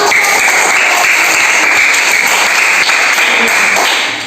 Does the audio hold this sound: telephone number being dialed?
no